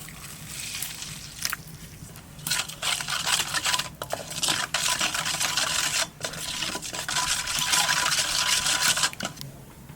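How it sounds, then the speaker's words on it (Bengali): A spoon stirs ground coriander, cumin, chili powder, turmeric and salt into a little water for a crab curry, a close, continuous scraping and sloshing with intermittent clinks against the bowl. "তা প্রথমেই মশলাটা একটু জল দিয়ে গুলিয়ে নেবো"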